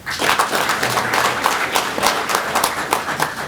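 Applause from the audience at a Caldwell County commissioners' meeting, a steady patter of many hands clapping at moderate loudness for a few seconds, filling the room without talk.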